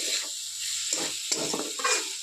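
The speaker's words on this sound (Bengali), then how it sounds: "মাঝে মাঝে এটাকে ভালো করে নাড়িয়ে নিতে হবে।" Spatula stirring potatoes and mushroom masala in a frying pan, with intermittent scraping strokes over a steady close sizzle.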